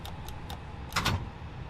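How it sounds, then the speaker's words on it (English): Aircraft door locking in the FlyByWire A32NX in Microsoft Flight Simulator: three quiet evenly spaced ticks, then a brief louder mechanical clunk, faint overall. "We'll lock the door."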